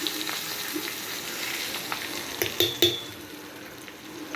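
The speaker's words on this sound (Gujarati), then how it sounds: "આમાં સૂકા મરચાં નાખશું બે ત્રણ અને મીઠો લીમડાના પત્તા નાખ્યા છે" Dried red chillies and curry leaves frying in hot oil for an idli tempering, a steady crackling sizzle with a few sharp pops and utensil clinks near the end.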